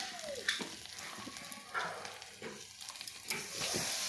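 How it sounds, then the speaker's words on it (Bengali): Fish fry in a pan over onions already browned red, a quiet, continuous sizzle with a few soft stirring scrapes and clinks, no talking. "তারপরে মাছগুলি দেওয়ার পর আমি মাছগুলো ভেজে নিলাম।"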